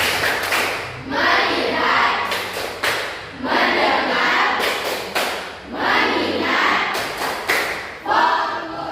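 A class of junior high students performs a rhythmic 'tepuk fokus' clapping routine, loud repeated clusters of claps in a steady pattern, with voices joining in.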